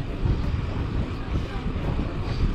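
Loud, blustery headwind buffets the microphone while cycling, a low roaring rumble that gusts unevenly throughout.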